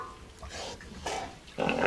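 Pigs grunt and snuffle close by in a pen, a few short rough grunts in irregular bursts that grow louder toward the end, with no talk.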